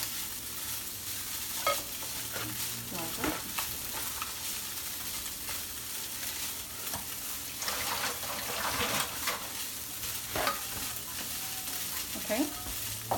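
A spoon scrapes and clicks as a fish laab mixture is stirred in a bowl, with soft wet squelching, irregular and fairly quiet over a faint background hiss; no speech.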